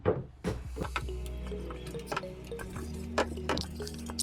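Ground coconut paste scooped into appam batter for a Pesaha appam, with soft wet squishing and dripping sounds, a few clinks and taps from a spoon or bowl, close up with no talking.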